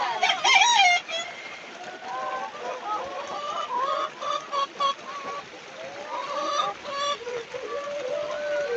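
At a local chicken farm, a rooster crows loudly near the start while chickens cluck repeatedly through the rest, close by, with a faint voice now and then.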